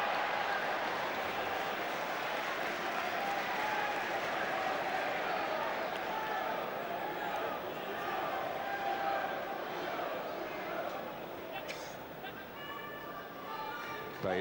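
Home supporters at the JJB Stadium in Wigan keep up a broad, steady roar during a Wigan Athletic versus Arsenal match, a continuous wash of crowd noise that stays level throughout, with a commentator talking over it.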